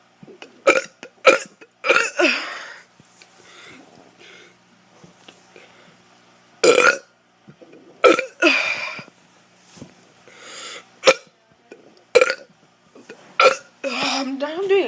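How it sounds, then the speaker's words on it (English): A teenager burping over and over, loud close belches arriving in uneven bursts with short pauses, some stretched and croaky, with no talk in between. "I'm going to be doing a burp video once again."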